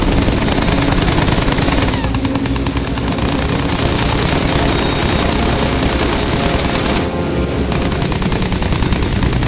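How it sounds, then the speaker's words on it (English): Bomber aircraft fly overhead in Fortnite, a loud, dense engine roar mixed with rapid gunfire bursts that carries on continuously, briefly thinning a couple of times. "Next bomber wave coming in!"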